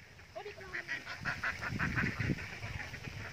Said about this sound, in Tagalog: Daming itik ko.